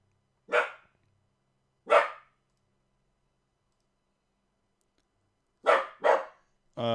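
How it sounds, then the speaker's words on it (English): A dog barks four times, single sharp barks spaced apart with the last two close together, loud and nearby against silence. "Stop barking."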